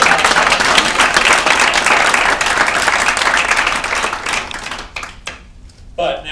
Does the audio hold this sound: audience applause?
yes